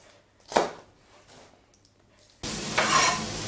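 A brief scrape and clatter of a utensil in a pan, then a loud, steady sizzle of chopped onions frying close up.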